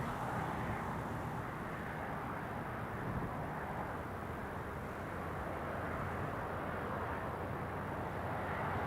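A British Airways airliner arrives at Newcastle Airport during Storm Isha, a faint, steady engine rumble mixed into gusty wind noise.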